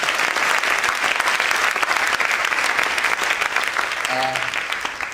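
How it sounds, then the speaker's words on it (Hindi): Church congregation at a worship service clapping loudly, a thick sustained burst of applause that eases slightly at the end, where a brief tonal sound rises above it. "क्या यीशु के लिए जोरदार हम ताली बजा सकते हैं?"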